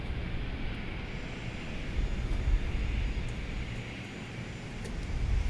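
An airplane engine in a flight simulator game drones steadily at an airport around Sao Paulo, a continuous low roar that swells slightly midway, with a few faint clicks and no talk.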